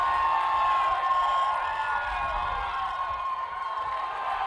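A stadium crowd roars as New Zealand win the men's 50s gold medal final at the 2019 Touch World Cup. The cheering is a dense, sustained wash of noise, loud and steady throughout.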